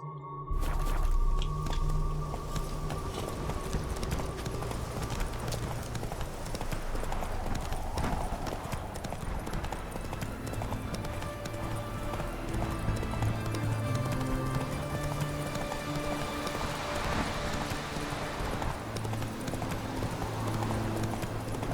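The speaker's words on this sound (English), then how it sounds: "Whoa there, Roach." Roach the horse's hooves clip-clop in a fast trot in The Witcher 3, a rapid steady rhythm of close hoofbeats over game music and ambient tones for the whole stretch.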